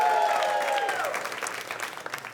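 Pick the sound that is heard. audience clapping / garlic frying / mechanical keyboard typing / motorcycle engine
audience clapping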